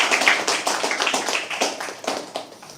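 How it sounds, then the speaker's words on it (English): An audience at a live poetry open mic applauding, a close, lively patter of many hands clapping that thins out toward the end. "Can we please have a round of applause?"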